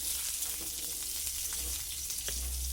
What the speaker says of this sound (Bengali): আলুগুলোকে একটু হালকা করে ভেজে নেব।